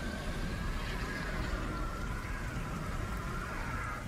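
Steady rain falls in a continuous wash of dense patter, even and moderately loud throughout with no voices, evoking acid rain from volcanic eruption gases.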